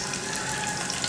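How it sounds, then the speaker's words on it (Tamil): Curry leaves frying in hot oil left over from cooking eggs, a steady, dense sizzle and crackle that holds at an even level throughout, with no talking. "இப்போ அதே எண்ணெயில் கருவேப்பிலை சேர்த்துக்கலாம்."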